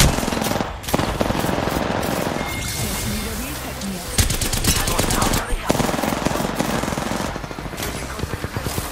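Rapid bursts of automatic gunfire in the Apex Legends battle royale on the Olympus map, dense and loud throughout with sharper volleys near the middle and end, mixed with game effects and occasional voice chatter.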